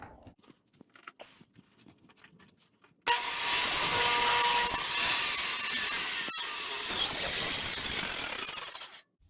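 A table saw cuts a groove in a wood raised panel door piece clamped to the fence, a loud, steady, broadband roar that starts abruptly, holds for several seconds with a brief dip, then stops, after quiet handling noises.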